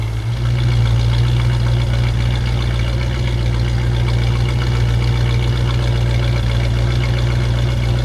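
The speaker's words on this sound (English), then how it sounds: "Come around and listen to this exhaust." The exhaust of a 1966 Ford Mustang Fastback with a 289 V8 idles loud and near, a deep, throaty, evenly pulsing rumble that holds steady throughout.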